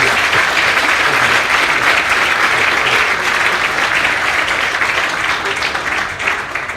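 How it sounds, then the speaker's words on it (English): Applause from attendees at a golf teaching and coaching summit, a loud, dense ripple of many people clapping that holds steady and tapers slightly near the end. "give these guys a round of applause for doing this"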